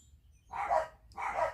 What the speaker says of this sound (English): it sounds like the dogs are not going to stop